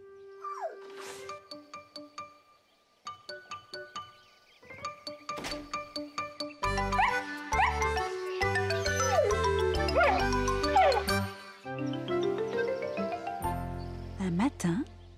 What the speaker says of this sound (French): Snuffy est un adorable petit chien.